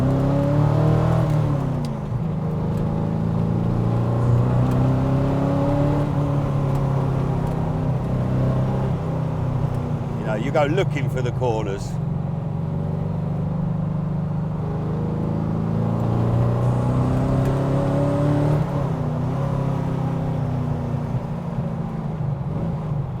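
Powerful V8 engine of a lightweight GT40 Tornado car droning and revving steadily while driving, its pitch rising and falling through gear changes, with someone talking over it.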